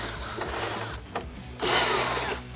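A power driver with a T27 bit spins out headlight bolts on a 2023.5-or-later Harley Street Glide, heard as two close whirring runs with a brief ratcheting pause between them.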